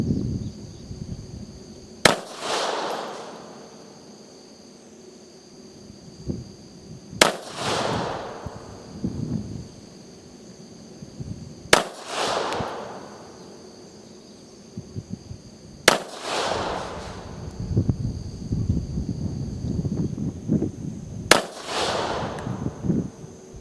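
A SCCY CPX3 .380 auto pistol fired five times outdoors, single loud cracks spaced roughly four to five seconds apart, each ringing out with a decaying echo, with a steady background hum between shots.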